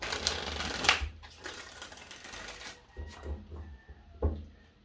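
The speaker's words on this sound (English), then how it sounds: "Let's give you 5 shuffles here." Several quick riffling bursts of tarot cards being shuffled, separated by short pauses, close and moderately loud with faint background noise.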